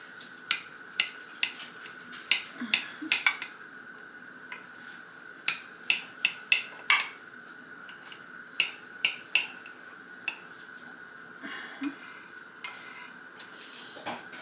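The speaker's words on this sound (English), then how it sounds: "And then I just slice with a table knife into about 1/2 inch to 3/4 inch slices." A table knife slicing through a homemade meatloaf on a counter, cutting it into half-inch slices: a steady series of sharp, close clicks and taps as the blade meets the plate, evenly spaced over quiet background.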